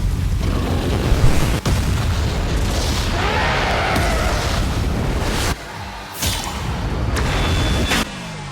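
A Soul Bomb attack in the Bleach Brave Souls mobile game sets off dense, booming explosions layered with whooshes and bursts. A few sharp cracks and short dips break up the loud, continuous barrage.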